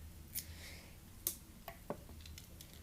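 Scissors snip cotton wick cut diagonally against the deck of a Youde UD Bellus RTA coil build, three or four short crisp clicks spaced across a few seconds, close and quiet.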